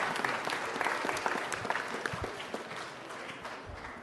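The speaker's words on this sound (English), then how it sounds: "Let's give one more round of applause." Sustained audience applause at a city council meeting, a dense, steady wash of many hands clapping that holds evenly throughout and tapers slightly toward the end.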